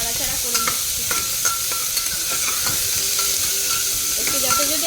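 Potatoes and split chillies are stirred in a hot pan, with a spatula scraping and knocking against the metal at a steady pace over a continuous close frying sizzle, with faint tonal music in the background.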